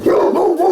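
A very large dog gives one deep, booming, drawn-out bark that carries outdoors in a garden setting, loud and alone.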